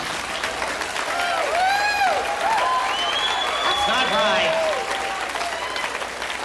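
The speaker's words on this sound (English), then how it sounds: "Stop your clapping." A comedy club audience applauds steadily throughout, loud and sustained, while a voice speaks briefly over the clapping.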